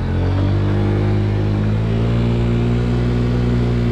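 A BOOM PYT Revolution 50cc scooter engine heard while riding, a loud, steady droning hum with a slight rise in pitch partway through, no talk.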